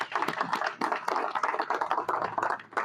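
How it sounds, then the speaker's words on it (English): Audience at an event in Africa clapping, distinct individual claps in a loose, uneven rhythm from a modest group, fairly close and loud. "I think that's worth a round of applause, Swazi"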